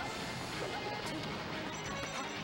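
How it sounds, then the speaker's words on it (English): A Peach smash attack landing in Super Smash Bros. Melee during a doubles losers-finals match, with sharp hit impacts buried in dense, loud, continuous game and crowd noise. "the Peach came in for the smashes"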